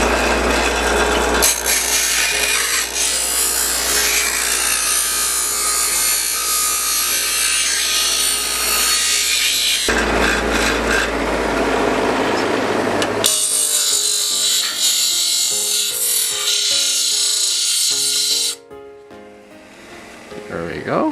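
Metal being ground with a power tool to shape cosplay armour, a harsh continuous rasping roar close up that shifts in pitch between passes, then cuts out near the end.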